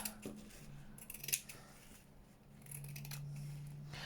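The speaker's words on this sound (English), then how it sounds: "Oh, I'm not cutting it very straight." Scissors snip through a paper napkin in short, quiet crackling cuts that come in small bursts, close by, with brief pauses between cuts and no talking.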